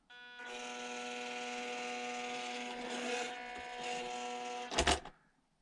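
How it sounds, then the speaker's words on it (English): Whining electronics of an FMS 1/18 Toyota FJ Cruiser RC truck give a steady, close, tonal buzz with strong harmonics that swells slightly mid-way, ending in a short rough burst before cutting out. "you can already hear quite noisy electronics"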